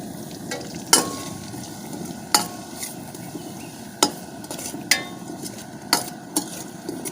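Finely chopped onion with curry leaves frying in a pan for a drumstick-leaf stir fry, a continuous close sizzle punctuated by regular sharp taps and scrapes of a spatula against the pan.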